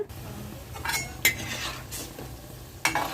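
Kakinada gottam kaja dough pieces fry in a pan of hot oil under a soft steady sizzle. Several sharp metal clinks and scrapes of a utensil against the pan break through it.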